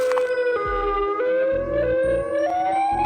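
Civil defense siren sounding the warning for an imminent atomic bomb impact, a steady wailing tone slowly rising in pitch, loud and alone over a low rumbling background.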